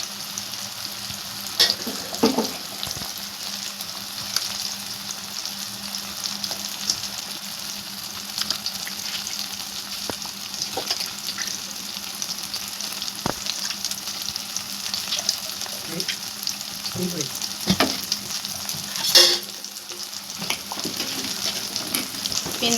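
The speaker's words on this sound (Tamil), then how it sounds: "நல்லா குழம்பு கொதிச்சிருச்சு." A Thirukkai stingray fish curry bubbles and simmers in a pot, a steady close sizzle with scattered soft pops and occasional stirring clinks, no voices.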